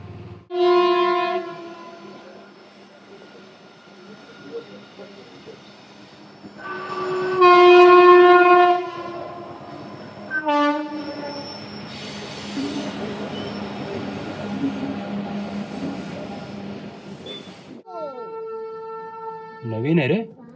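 A train passes a railway level crossing near Lonavala, sounding loud, close horn blasts at the start and again mid-way, then a long rolling rumble of wagons with a brief wheel squeal near the end. Faint voices may be heard underneath.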